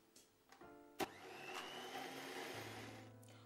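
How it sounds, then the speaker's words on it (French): An electric mixer whirs steadily as it whips egg whites to stiff peaks for tiramisu, after a few sharp clicks and knocks at the start, running loud and close without any talk. "battre les œufs en neige"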